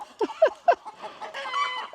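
Chickens in a backyard flock cluck and squawk in a few short, agitated bursts, then a steadier murmur of hen calls continues, fairly close.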